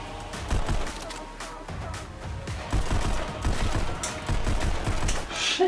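Rapid gunfire crackles in bursts in the VR shooting game Pistol Whip, steady shots over a driving game soundtrack, loud and continuous throughout.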